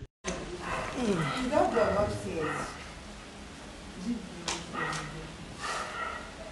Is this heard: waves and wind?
no